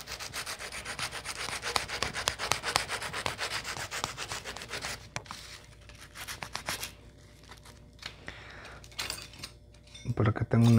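Close, brisk sanding strokes rub over a wooden crochet hook made from a branch, a fast repeated scrubbing that continues for several seconds, then thins out into scattered scrapes and a few handling bumps at the end.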